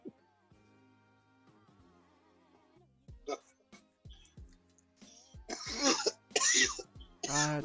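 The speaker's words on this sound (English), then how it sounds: "Damn, bro, you cough." Loud harsh coughing bursts at close range during a live forex trading stream, following quieter talk and a faint tonal hum, with the coughs bunching together toward the end.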